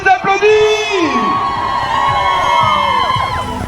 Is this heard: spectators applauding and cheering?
yes